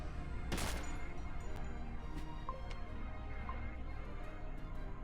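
Gunfire in the Edge of Eternity video game: one sharp, loud shot near the start, then faint scattered impacts over a steady low game background.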